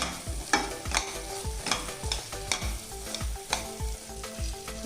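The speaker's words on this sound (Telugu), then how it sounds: "తర్వాత అడుగు అంటకుండా ఇలా కలుపుతూ ఉండాలి" A coconut and jaggery laddu mixture is stirred steadily in a pan to keep it from sticking, with rhythmic spoon scrapes over a constant frying sizzle, close and clear, with no voices.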